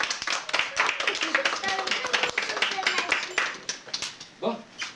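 Children at a magic show clap loudly and raggedly after a card trick, quick uneven claps for several seconds with excited young voices calling out over them before it thins to a few last claps.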